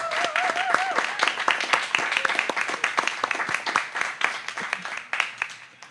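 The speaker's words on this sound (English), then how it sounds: "Another round of applause." Congregation at a Sunday church service gives a round of applause, scattered claps forming a lively, uneven patter that thins toward the end, with a brief voice audible early on.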